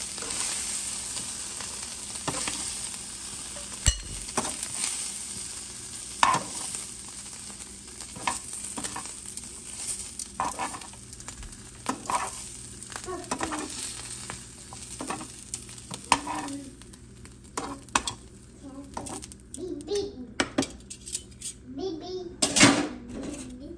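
Beef pieces browning in a hot pan, a steady sizzle with stirring scrapes and clatter, a voice breaking in now and then over the frying.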